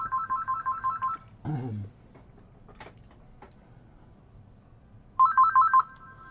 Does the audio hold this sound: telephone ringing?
yes